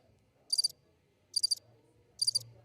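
Crickets chirping as a sound effect dropped into commentary at a billiards team tournament final: three short, high chirping bursts spaced evenly apart, fairly quiet over a faint low background.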